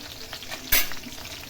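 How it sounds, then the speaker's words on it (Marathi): Crushed garlic fries in hot oil with a steady close sizzle, and one sharp hiss bursts out midway before the sizzle settles back, with no talk. "तो ठेचलेला लसूण आपल्याला तेलामध्ये टाकायचा आहे छान लसूण लालसर होऊन द्यायचं आहे"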